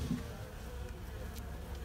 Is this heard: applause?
no